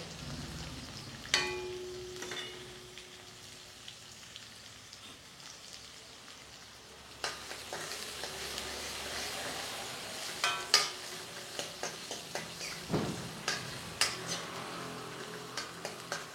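Onions go into hot oil in a pan for North Karnataka girmit, and a steady close sizzle swells into loud frying. Scattered scrapes and clinks of stirring sound over it.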